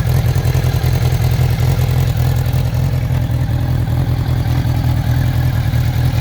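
A 1984 Honda CB700S Nighthawk motorcycle engine idles steadily and smoothly up close, a low even hum with faint light tappet clatter, no voices over it.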